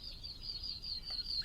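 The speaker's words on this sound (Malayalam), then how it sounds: "നല്ല കിളികളെ ശബ്ദം." Birds in a deep forest give faint, thin, high-pitched calls repeating in a steady series, distant and quiet against soft background hiss.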